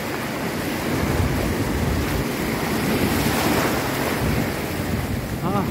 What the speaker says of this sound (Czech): Vlny se nám nějak rozkokošily.